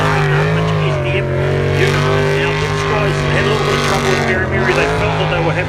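A jet sprint boat with a 650 horsepower Chevy engine races at a jetsprint event in Wanganui, New Zealand, its engine a loud, sustained roar with shifting pitch held close and continuous throughout.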